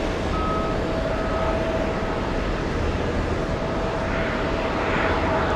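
An Air India airliner passes at JFK airport with a loud, steady roar of jet engines and a faint whine, continuous throughout with no voices.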